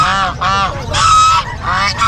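A goose honks loudly and repeatedly at close range, four harsh calls in quick succession, at a pet market in Bocaue, Philippines.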